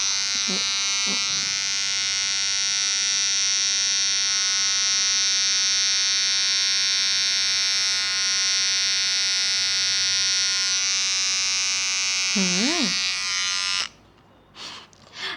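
Veet Sensitive Touch electric hair trimmer running at its first setting, a steady close buzzing drone held for most of the clip before it switches off, with brief speech over it.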